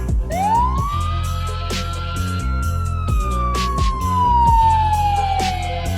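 A police siren from the video game Brawl Stars, one long rising then slowly falling wail over steady rhythmic game music and clicky effects.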